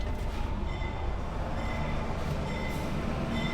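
A train arrives on track 2 at Pasar Senen station in Jakarta, a loud continuous rumble of wheels and rolling stock close to the platform.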